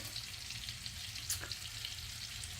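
Spicy onion rings frying in hot oil, a dense, continuous sizzle with a few brief crackles, close and steady with no talk.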